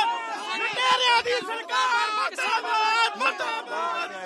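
Congress party protest crowd outside the Haryana chief minister's house in Chandigarh: many voices chattering and shouting together in a close, continuous hubbub with bursts of louder calls.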